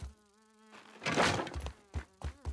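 Flies buzz in the survival video game Grounded, a droning hum followed by a louder burst of buzzing and a few thudding hits, all fairly faint and close.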